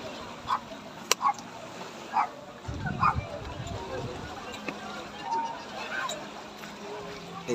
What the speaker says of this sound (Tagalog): May aso pala dun, oh.